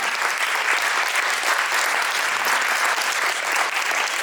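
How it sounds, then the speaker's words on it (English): An audience at an honouring ceremony for an Odissi dancer claps loudly and continuously, a dense, steady wash of applause that fills the whole stretch without any speech. "that deserves a round of applause"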